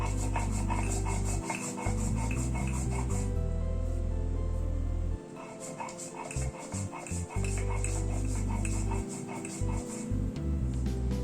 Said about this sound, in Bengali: আমি শিলনোড়ায় বেটে নিচ্ছি